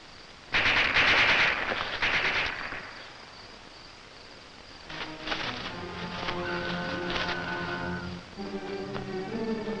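Bursts of machine gun fire ring out early, loud and rapid, then fade into a quieter stretch of rustling and distant rattling without any talk.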